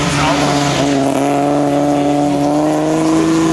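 A 1950s-style vintage race car with a 135 hp engine, driven by Uli Metscher, starts at the Rossfeld hill climb. Its engine is loud and close, holding a steady droning note with a slight rising pitch throughout.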